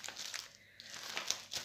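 Paper envelope holding a cross-stitch kit crinkles as it is opened, with a brief burst of close, quiet rustling and crackling.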